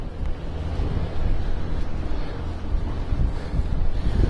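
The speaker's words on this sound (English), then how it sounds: "Yeah, it's pretty windy today" Steady, fairly loud wind buffeting the microphone during a bike ride through a windy, chilly, half-deserted city, a continuous low rumble with no talk.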